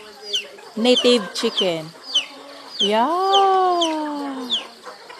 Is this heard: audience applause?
no